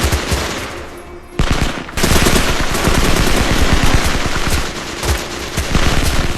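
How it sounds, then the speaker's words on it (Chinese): Sustained machine gun fire in a war film, a massacre scene: loud dense bursts of automatic gunfire rattling almost continuously, with a brief drop before the shooting intensifies again. "舒特带人上前进行补枪，继续对着还有气息的同胞狂暴开火"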